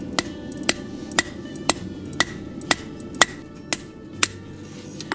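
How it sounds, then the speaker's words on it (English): A hammer strikes a Damascus steel paring knife on a crossbeam while forging it, about ten sharp metallic blows at an even, unhurried rhythm. "I'm gonna show you with the crossbeam and the hammer."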